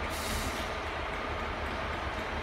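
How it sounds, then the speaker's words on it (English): A double Pacer diesel multiple unit departs towards Barnstaple at Exeter St David's, a steady close rumble of engines and rolling wheels filling the whole stretch without any talk. "It's a double pacer going to Barnstable."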